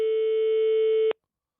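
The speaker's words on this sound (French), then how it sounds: "Ça sonne." Telephone signal heard over a radio call-in line: a single steady electronic tone held for just over a second, loud and close, then cutting off abruptly into silence.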